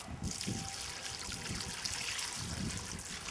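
Water poured slowly into a freshly planted tree's hole in a garden nursery makes a continuous soft trickling splash, steady and close, with no voices.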